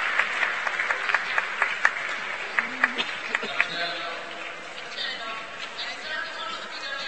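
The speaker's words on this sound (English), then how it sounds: "And again, big cheers from the crowd." Crowd at a climbing competition final cheering and clapping, with sharp claps and whoops in the first few seconds before the applause thins out under a commentator talking.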